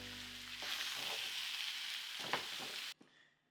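Beef, potatoes and mushrooms simmer and sizzle in beef bouillon in a pan, a steady loud hiss with a few stirring clicks, cut off abruptly near the end.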